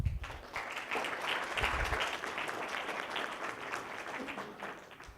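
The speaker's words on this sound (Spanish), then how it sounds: "Un fuerte aplauso para Raúl, por favor." Warm, sustained applause from an audience at a talk on behavioral economics, steady dense clapping that swells quickly and holds at an even level throughout, with faint low rumble early on.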